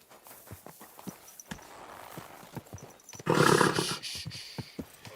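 Rhythmic clip-clop of horse hooves from the video game Kingdom Come: Deliverance II, steady and fairly close, joined partway through by a loud rushing burst that fades out.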